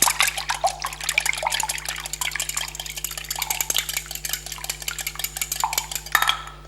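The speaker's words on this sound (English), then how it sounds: "and just whisk it in." Milk whisked into wholemeal cinnamon scone dough in a bowl, a close, steady run of quick clinking, scraping strokes against the bowl with wet, sloshing texture, continuous and fairly loud with no talking.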